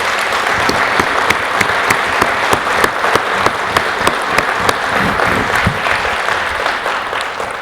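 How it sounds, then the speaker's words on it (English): An audience applauds a college president at a live Manufacturing Rocks event, a loud, sustained clapping with sharp individual claps cutting through the steady crowd wash. "Michelangelo, I suggest you give him a round of applause because you are lucky."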